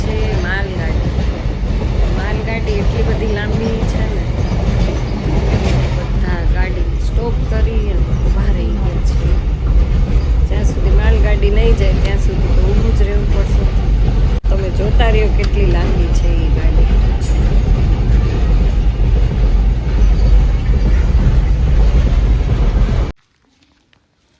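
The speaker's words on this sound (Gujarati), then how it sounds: "ટ્રેન આવી ગઈ ને એટલે આ" A train passes with a loud, continuous rumble and rattle that fills the scene under ongoing chatter, then cuts off abruptly near the end.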